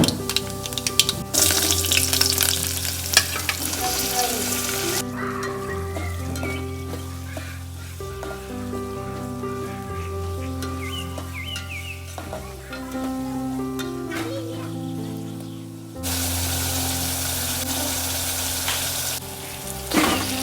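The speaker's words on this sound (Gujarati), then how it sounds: "તો ચલો ભાઈ ફટાફટ પહેલા આપણે વઘારી લઈએ" Spices are tempered in hot oil for papad rice, giving a steady sizzle and occasional stirring that run under background music, with a brief quieter gap before the frying returns loudly.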